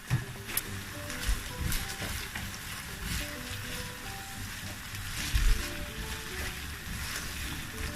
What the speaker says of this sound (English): I'm frying with the same olive oil, the light olive oil that came out from the beef